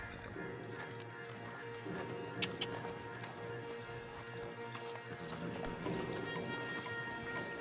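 Horse hooves clopping in Red Dead Redemption 2 as riders set out with stallions, a steady, fairly faint clip-clop rhythm under a layered outdoor ambience with a couple of sharper knocks.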